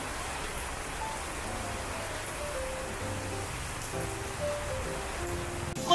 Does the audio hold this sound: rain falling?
yes